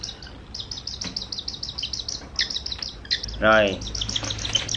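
Baby falcon chicks chirp after feeding in rapid, high, repeated peeps that run almost without pause, close to the microphone, with a brief spoken word from a person partway through.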